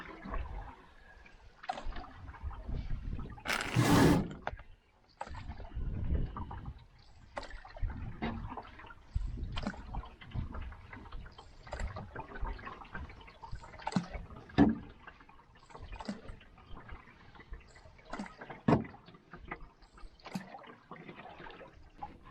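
A solo canoe paddled on a lake in the Boundary Waters, with close, irregular splashes and drips of water from each stroke and quiet gaps between the strokes.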